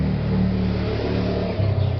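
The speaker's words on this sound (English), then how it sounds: "there are lots of vehicles passing by, motor, tricycle, cars" Road traffic of motorcycles, tricycles and cars passes in front of a front-yard garden, led by one engine accelerating loudly and close for a couple of seconds over a continuous traffic drone.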